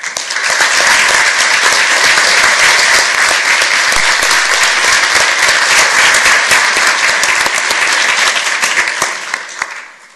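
Audience at a WJCC school board meeting applauds as school staff members stand, a loud, dense, sustained round of clapping that fades out in the final moments.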